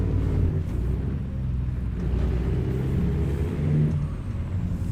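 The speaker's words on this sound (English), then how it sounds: "Heading down there in a big black Kenworth. Hear that dirt rumbling, boys." A big black Kenworth truck in American Truck Simulator rumbles along a dirt road in Louisiana, a steady, loud low engine drone with rough road rumble underneath, no talking.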